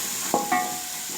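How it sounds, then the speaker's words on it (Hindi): Turmeric and chili powder are sautéed with a steady low sizzle, broken by two quick metallic scrapes of a spoon against the pan close by. "इसको अच्छी तरह भूनते हैं।"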